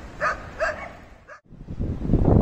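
Wild dogs at an abandoned Soviet site let out two close, loud barks and then a shorter yip, followed by a rising gust of wind noise.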